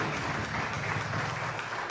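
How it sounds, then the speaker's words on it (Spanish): Steady applause from a church congregation during a worship service, a continuous even wash of many hands clapping, moderately loud in a reverberant hall. "Aplausos para hermano"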